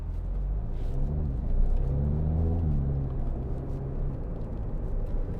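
A 2011 Audi TTS 2.0 TFSI quattro pulls hard on a test drive, its engine rumble rising and falling in pitch as it accelerates through the gears, steady and close with no talk.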